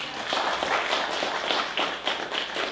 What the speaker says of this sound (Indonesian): Tepuk tangan bagi Allah kita yang kasih.